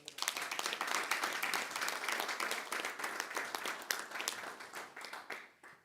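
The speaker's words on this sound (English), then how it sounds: "let's give Phil a big round of applause" A quiet room of people at a university advisory board meeting gives a brief round of applause, scattered claps swelling then tapering off, fairly faint and distant.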